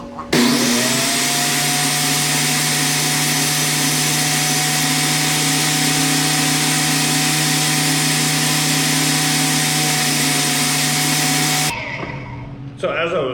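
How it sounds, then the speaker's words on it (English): A loud, steady power-tool whine runs continuously for about eleven seconds, a table saw cutting wood for a lighthouse model build, then cuts off abruptly followed by brief clatter. "Let's try this on the table saw."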